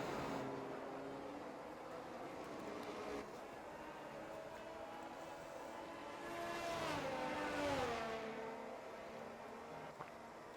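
A Ferrari Formula 1 car in F1 22 runs steadily at a distance, its engine note rising to a louder pass and then falling away, with faint background engine drone.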